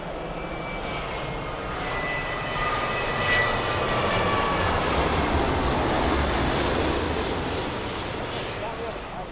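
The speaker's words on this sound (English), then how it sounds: "behind that you got an American 7879 from Chicago" An American Airlines Boeing 787-9 from Chicago arrives on runway 27L at London Heathrow, a steady broad jet roar rising slightly and then easing, with faint engine whine and people talking nearby.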